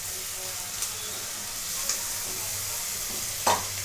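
Ingredients sauté in a pan for chicken biryani, a steady close sizzle with a few sharp clinks of a utensil against the pan, no talk.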